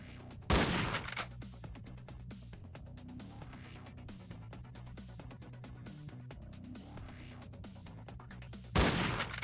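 Shotgun blasts in the video game Entry Point: two loud, sharp reports near the start and end, with steady game noise and a low hum between them.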